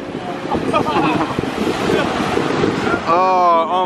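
Ocean waves crash and surge along a Southern California shore at night, a loud, steady wash of surf with strong wind buffeting the microphone and a person's voice at the end.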